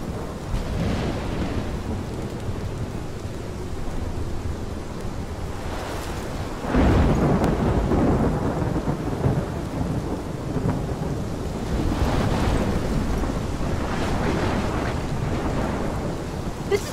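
Thunder rumbles through a steady downpour in the Life Is Strange storm, with heavy rolling cracks near the middle and again toward the end over constant rain and wind.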